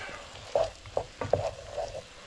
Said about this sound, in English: now you want to add some garlic, and I'm adding about 2 cloves of garlic. You want to stir it up